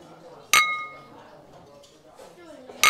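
Glasses clink together in a toast: one sharp, ringing clink that fades slowly, then a second clink right at the end, with people talking quietly in the background.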